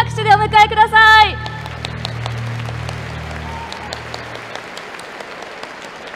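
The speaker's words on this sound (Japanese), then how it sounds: "どうぞ皆様盛大な拍手でお迎えください。" Audience applause greets Takafumi Horie at a graduation ceremony, a broad wash of clapping that swells after an announcer's voice and holds steady at moderate loudness to the end.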